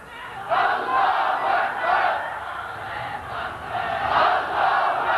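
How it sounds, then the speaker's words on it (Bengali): A large crowd roars a takbir chant in unison at an Islamic sermon gathering, a sustained loud collective shout that swells and recedes in waves with no single voice standing out. "মুসলমানের জীবনে শ্রেষ্ঠ স্লোগান নারে তাকবীর"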